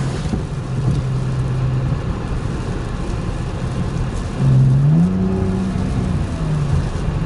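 A BMW 328i with a custom exhaust idles in the rain, a low steady rumble, then revs in a sharp rising burst and settles back down, with rain patter in the background.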